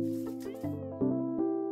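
A cat meows in a cozy space video game, giving a few short tonal meows in quick succession, clear and close, with a soft game backdrop under them.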